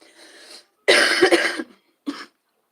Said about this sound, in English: Sorry, I get that cough out.